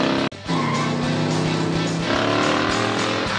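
Black Dodge Challenger engine revving hard under acceleration, a loud continuous roar with rising harmonics and a brief cut near the start, close to the microphone with no talk.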